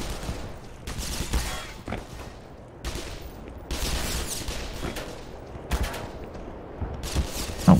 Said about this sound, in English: Things are shooting at me.